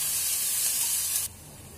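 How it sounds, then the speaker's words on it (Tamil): Loud, steady hissing sizzle of green chilies, ginger and garlic sautéing in a hot pan, cutting off abruptly near the end, leaving a quieter background. "பச்சை மிளகாய் இஞ்சி பூண்டு விழுத சேர்த்து நல்லா வதக்கி விட்டுக்கோங்க"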